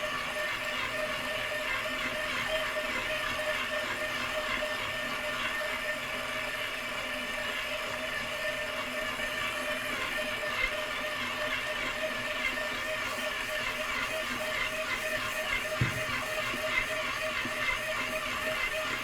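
A Wolf Gourmet 7-quart, 500-watt stand mixer kneads dough with a steady, loud motor whir and hum that runs continuously, with only faint irregular thumps from the dough; no talking.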